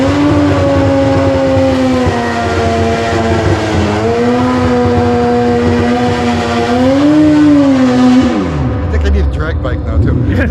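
A drag racing car launches down the track with a loud, sustained engine roar whose pitch climbs and dips through the run, then drops sharply as it fades into distant rumble.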